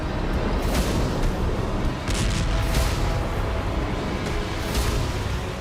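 Continuous heavy rumbling blasts with sharp bursts, loud and dense throughout, from a rocket explosion in a building and its aftermath, with no voices.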